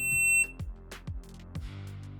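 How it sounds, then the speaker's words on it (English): An SG shot timer sounds a single sharp electronic start beep, steady and high-pitched for under half a second, followed by a few dull low thumps. "The timer will give a start signal and count down 3 seconds."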